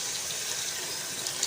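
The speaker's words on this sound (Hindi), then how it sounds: "इसमें 2 गिलास पानी के शामिल कर दूंगी।" Water pours in a steady, even gush into a pot of minced meat and peas curry, a soft continuous stream of liquid with no talking.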